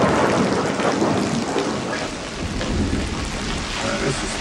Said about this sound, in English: This storm is going to be hell on those roses.